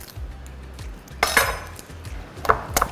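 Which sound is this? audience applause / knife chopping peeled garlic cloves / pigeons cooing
knife chopping peeled garlic cloves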